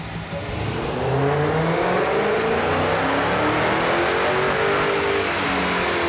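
A high-horsepower Dodge Hellcat Challenger engine revs loud and close, a sustained rising roar with a whirring overtone that holds steady for several seconds without talk.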